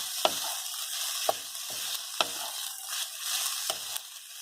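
Rice stir-fried in a hot pan for Hawaiian bar-style fried rice, a steady sizzle broken by regular scraping strokes of the spatula, close and moderately loud with no talk.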